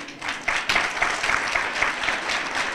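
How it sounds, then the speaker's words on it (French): An audience at a formal reception in honour of the Spanish ambassador breaks into sustained, fairly close applause, clapping steadily throughout. "je vous demande d'applaudir"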